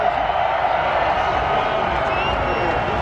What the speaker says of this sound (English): Crowd's going wild for Chase.